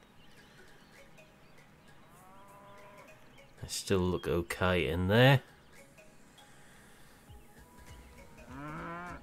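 Several cows moo in the farming video game Cattle and Crops, a loud burst of overlapping lowing in the middle and another moo near the end, with someone talking quietly in between.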